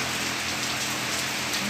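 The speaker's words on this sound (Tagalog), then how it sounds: "Medyo ramdam na talaga yung lakas ng hangin. Saka lakas ng ulan po." Heavy rain from Typhoon Odette pours down in a dense, unbroken roar, close and loud, with gusting wind mixed into the steady wash and no voices.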